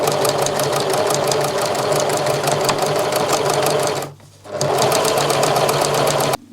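A sewing machine stitches a hem on a sun dress in a fast, continuous mechanical patter, close and loud, stopping for a brief moment partway before running again.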